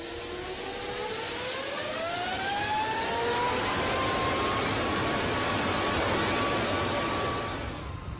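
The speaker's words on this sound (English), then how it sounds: "at last the throttles are opened and the engine brought to its full, awesome power" An Airbus A380 jet engine roars steadily at full throttle, a loud sustained rumble with a rising whine climbing in pitch and then holding.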